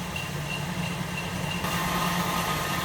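A 1965 Buick Riviera engine idles steadily up close, a low even rumble with a faint hum and no change in pace.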